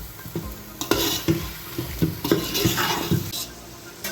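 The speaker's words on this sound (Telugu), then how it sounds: "ఈ చికెన్ని దాదాపు 10 నిమిషాల పాటు ఈ ఆయిల్లో ఏగనివ్వాలండి" Chicken pieces frying in hot oil for a chicken pulao, a steady sizzle broken by repeated scraping stirs of a spoon against the pan, close and fairly loud.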